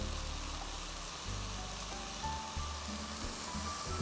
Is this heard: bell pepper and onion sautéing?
yes